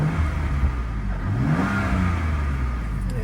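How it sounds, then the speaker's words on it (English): A BMW M3 F80, parked with the e-brake on, revs its engine in a quick swell and fall, a throaty rise sitting over a steady idle rumble with no talk. "can I not just rev it right now while it's e-brake"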